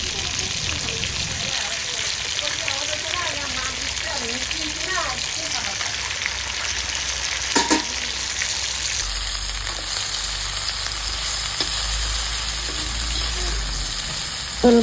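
Fish pieces fry in hot oil for a home-style fish curry with a constant, crackling sizzle that grows slightly denser partway through, with a brief clatter near the middle and no talking.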